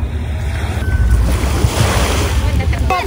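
Gentle sea waves wash steadily onto a beach on a fairly calm day, a continuous loud rush mixed with wind buffeting the microphone.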